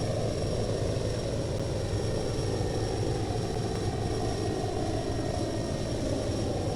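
A propeller aircraft engine drones in the Fly! 2K flight simulator, a loud, steady throbbing hum that runs unbroken from start to finish with no voices.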